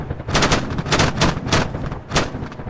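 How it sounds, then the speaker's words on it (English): Heavy automatic cannon and gunfire from a BMP in the video game Arma 3, a series of about six loud booming bursts in quick irregular succession with rumbling echo between them, no speech. "BMP, clear the upper floor of the construction site with your cannon"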